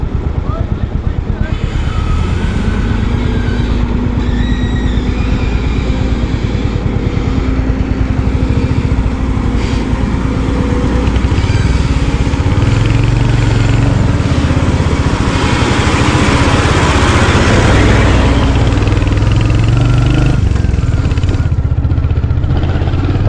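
A Royal Enfield motorcycle engine drones steadily throughout while riding, a loud continuous rumble with wind and road noise.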